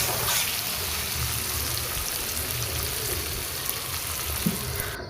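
Onions and potatoes frying in a pan for an egg curry, giving a constant, dense sizzle that stays loud and close for the whole stretch with no talking.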